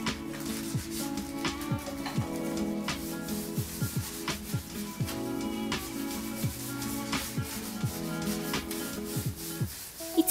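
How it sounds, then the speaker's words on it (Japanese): A melamine sponge scrubs a washbasin in quick, rhythmic back-and-forth strokes, a close, dry rubbing squeak repeating steadily with no voices. "いつもはメラミンスポンジで簡単にこするだけで終わらせてます"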